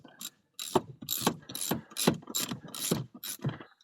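Screws on the air filter housing of a 2012 Chevrolet Silverado being started and tightened, a rapid series of close, dry mechanical clicks in short bursts with brief pauses.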